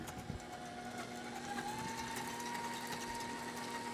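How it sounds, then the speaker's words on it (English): An old handheld electric mixer runs in a kitchen cooking demo, a steady whirring motor hum with a slowly rising pitch, faint and continuous, with light clatter over it. "This is the old mixer."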